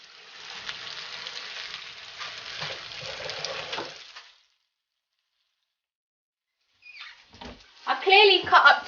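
Mushrooms frying golden brown in a pan for spaghetti and meatballs, a soft even sizzle for several seconds that cuts to silence, followed by a brief return of sizzling with a voice speaking over it.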